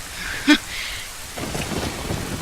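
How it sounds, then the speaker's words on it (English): Rain and thunder summoned in the Ocarina of Time video game: a sharp chime opens, then steady rainfall hiss and low rumbling thunder build and continue. "I shouldn't make it rain."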